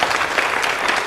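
An audience claps loudly for a musician at a televised music show, a brief dense burst of applause.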